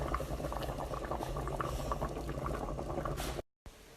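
Sauce bubbling and simmering in an electric pressure cooker on the saute setting, a steady close boil with dense popping and gurgling that cuts out abruptly near the end, then resumes more quietly.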